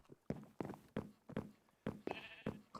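Sheep in the Minecraft video game let out a rapid string of short bleats, about eight in under three seconds, close but fairly quiet, with no talk over them.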